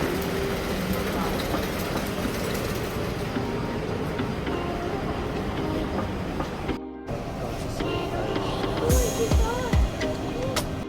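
A train in Milan, Italy rumbles along with a continuous mechanical roar and rattling, a brief cut partway, then squealing tones and a voice talking near the end.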